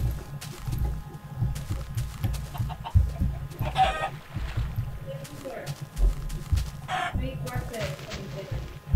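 Chickens cluck in a Minecraft world, short repeated clucks and a possible crow mixed with footstep-like clopping, with a person talking over much of it.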